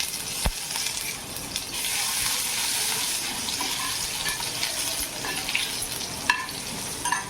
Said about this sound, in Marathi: मोहरी टाकायची आहे नंतर आपण जिरं टाकू